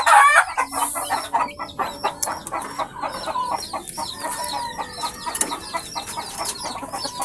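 Caged hens cluck and squawk in a busy, overlapping chorus, with a brief rooster crow near the start; a close, lively farmyard sound without talk.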